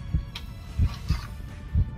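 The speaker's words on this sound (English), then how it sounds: "Oh, the heartbeat?" A heartbeat sound effect plays during a live tabletop Dungeons & Dragons session, with low thumping double beats repeating at a steady pulse, fairly close and moderately loud, with no talking over it.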